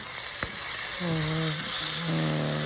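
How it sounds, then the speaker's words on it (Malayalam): Garlic ginger paste and garlic powder sauté in hot oil for a chicken curry, giving a steady, close, hissing sizzle throughout, with a sharp click near the start and a voice talking over the second half. "ഗാർലിക് ജിഞ്ചർ പേസ്റ്റ് കുറച്ച് ഗാർലിക് പൗഡർ ഇവയെല്ലാം കൂടെ ഒന്ന് എണ്ണയിൽ ഇട്ട് ഒന്ന് വഴറ്റുകയാണ്"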